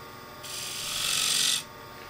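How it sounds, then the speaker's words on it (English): A spindle gouge cuts a turned piece of mixed wood and crayon on a lathe while finishing its foot, giving one close, sustained hissing scrape of about a second that swells and then stops abruptly. "Spindle gouge, just finish the foot."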